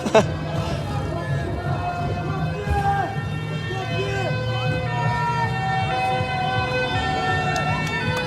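A fire engine siren wails steadily at a street protest in Bordeaux, loud and continuous above crowd noise and people talking nearby.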